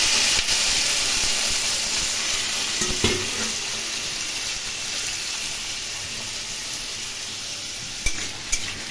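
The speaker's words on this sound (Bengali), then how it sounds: "তেলের মধ্যে কুমড়ো ভেজে নেব।" Pumpkin pieces fry in hot oil in a home kitchen, giving a loud, continuous close sizzle and hiss with occasional sharp utensil taps.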